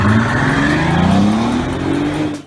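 Bentley Continental GT with a 6-liter W12 of over 600 horsepower, its engine note climbing steadily as it revs and pulls hard, loud and near, then cutting off abruptly.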